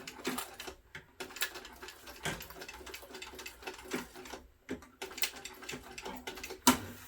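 Sewing machine stitching the ends of backpack straps at a 5 mm stitch length, running in short bursts of rapid mechanical clatter separated by brief pauses, close and fairly loud with no talking.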